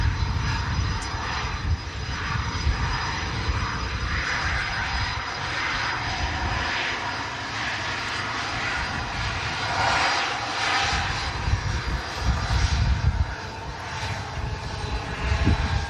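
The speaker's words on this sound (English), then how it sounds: "hyped to see this departure of the Emirates A380 single runway ops" An Emirates Airbus A380 roars steadily on departure at a single-runway airport, its broad engine rumble and jet whine sustained throughout, loud and continuous with slight swells.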